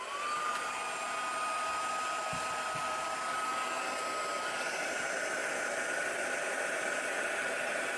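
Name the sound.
heat tool heating embossing powder on tags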